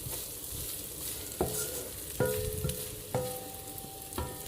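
Shredded beef sizzles steadily in a pan while being stirred, with four clear metallic clinks of a utensil striking the pan at irregular intervals over the constant frying hiss.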